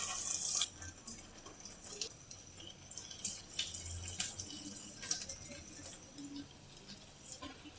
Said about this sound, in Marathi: आता हांवें एक कायल गरम करू दवरला, आता आम्ही तितून एक एक बॉल्स फ्राय करून घ्या।